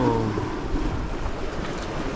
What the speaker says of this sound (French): Je sais pas si vous l'entendez le vent.